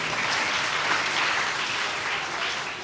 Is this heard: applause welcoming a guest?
yes